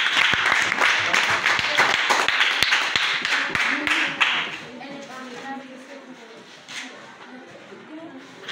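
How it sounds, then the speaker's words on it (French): Pupils in a CM2 classroom applaud a classmate with a short round of sharp, close handclaps, then the clapping stops and quieter voices and room sounds follow. "Applaudissez-la."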